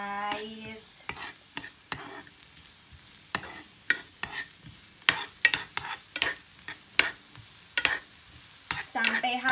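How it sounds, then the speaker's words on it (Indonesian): Garlic stir-fried in a pan with rapid, irregular scraping strokes of a spatula over a soft steady sizzle, close and moderately loud, no talking. "kita oseng-oseng"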